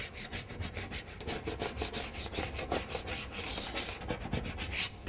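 Scraping and rubbing at dried glue blobs on the wooden surface of a veneering table, a steady, close, busy scratching that continues throughout with brief sharper strokes toward the end.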